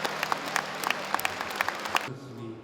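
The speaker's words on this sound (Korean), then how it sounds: "신흥근 바오로 신부를 힘껏 끌어안으며 그동안의 수고에 감사를 표했고 신자들은 박수로 화답했습니다." Applause from a large Catholic congregation at a bishop's installation Mass in Masan, a dense patter of many hands with sharper claps standing out, stopping abruptly near the end.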